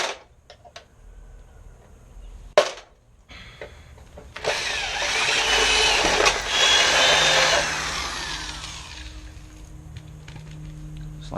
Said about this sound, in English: I'm going to punch the centers out of them